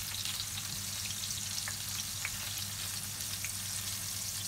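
Beef flank steak sizzles in an oiled pan with garlic, a steady, loud, close crackle that holds without pause and has no talking over it.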